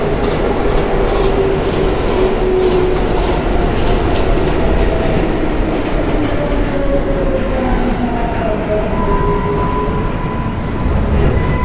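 Steady rumble and clickety-clack of an L subway train running between stations in a video game, loud and continuous, with faint tonal squeals rising and sliding over the wheel noise.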